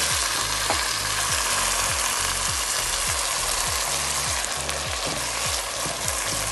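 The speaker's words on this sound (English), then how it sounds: "I'm gonna add the tomato that I already chopped" Chopped tomatoes fry in a pot for okra stew, giving a loud, dense sizzle over a repeating mechanical whir that sweeps downward about every half second.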